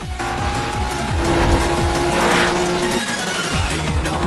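Race cars battle closely for eighth place on a circuit, engines roaring loud and continuous with a rising whine as they pass near, a few tire squeals in the mix and no voices.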